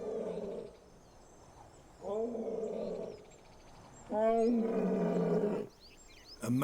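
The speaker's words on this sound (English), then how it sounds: "A male lion stakes a claim to his territory. His roars tell rival males that this is his patch." Male lion roaring to claim territory in the Indian desert, three deep, resonant roars in sequence, each fading into grunting breaths, close and loud.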